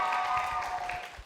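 Applause from an audience after a live singing performance on a music show, a short, dense burst of clapping under a held musical tone that fades out toward the end.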